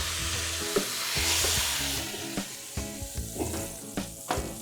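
Brisket sears in a hot pan, giving off a loud, steady sizzle, and then grows quieter as the meat is shifted. Scrapes and bumps of a utensil come through as it is handled, with no talking.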